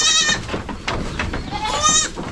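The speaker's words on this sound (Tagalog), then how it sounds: "Basta mga malalaking kambing." Goats on a Philippine farm, upgraded rather than full-blood stock, bleat several times, loud and close, with overlapping wavering calls from more than one animal.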